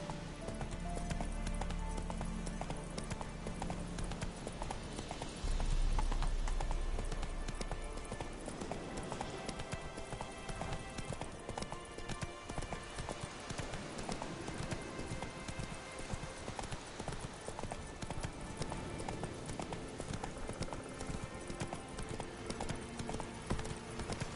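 Hooves of the horse Roach galloping in a PS4 video game, a fast rhythmic clip-clop throughout with game music and ambience underneath, and a brief voice calling to the horse.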